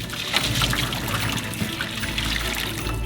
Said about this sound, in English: Drain the boiling water